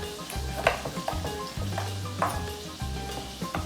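Squid wings, body and tentacles sizzle in a hot pan for a seafood risotto. The frying crackle stays close and steady, with a few clinks of utensils against the pan and no talking.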